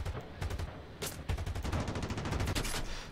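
Rapid aircraft cannon fire in the War Thunder air combat game: several quick bursts of heavy, rattling shots in close succession, loud and near, with no talk.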